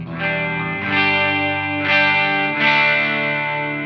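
Heavily distorted electric guitar chords through a Santono Uno preamp pedal with saturation turned up ring out four times, each strum saturated and sustaining into the next, with no voices.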